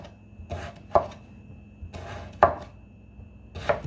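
Knife chopping food on a board for candied yams, about five distinct cuts at an uneven pace, close and fairly quiet, with no talking.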